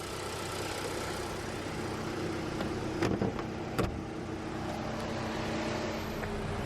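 A 2019 Audi Q3 35 TFSI, with a 1.5-liter turbocharged four-cylinder rated at 148 horsepower, idles with a steady low hum, broken by two brief sharp clicks partway through.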